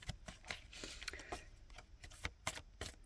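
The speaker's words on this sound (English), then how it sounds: "So let's have a shuffle of the cards" Tarot cards are shuffled with soft, quick riffling and flicking bursts at a quiet, close level, with no voices.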